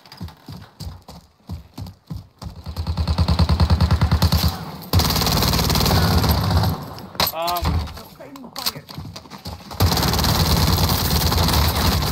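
Incoming gunfire in Call of Duty: Warzone, with rapid bursts of shots and crackling impacts, loud and close, mixed with clattering footsteps and game noise; a voice speaks briefly partway through.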